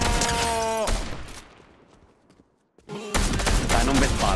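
Video game gunfire from a six-shot weapon rings out in loud bursts of shots, drops into a short near-silent gap, then returns loud and dense with voices mixed in.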